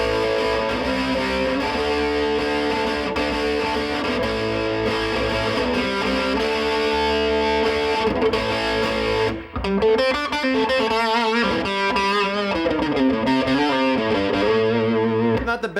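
A distorted electric guitar plays loud, sustained chords through a Randall RG80 solid-state amp on its dirty channel with the gain cranked, pausing briefly before a run of choppier riffs.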